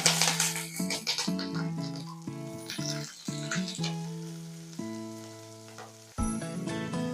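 Green chilies and onions dropped into a hot oil tempering for drumstick leaf and moong dal fry, giving a steady sizzle and frying hiss under continuous background music, with a brief louder burst near the end.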